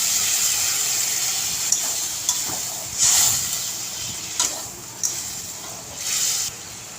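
Water poured into a hot pan of sizzling prawn and potato curry, a steady steamy hiss with several brief louder surges of spitting as the liquid hits the oil.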